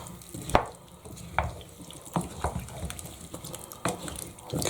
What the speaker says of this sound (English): Grab a spoon, give it a nice wee mix.